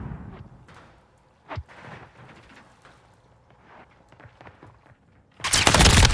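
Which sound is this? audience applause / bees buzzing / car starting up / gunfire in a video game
gunfire in a video game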